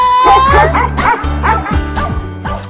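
Dogs bark repeatedly in a rapid, loud series of yips and bow-wows up close, with whimpering tones mixed in and a steady background hum throughout.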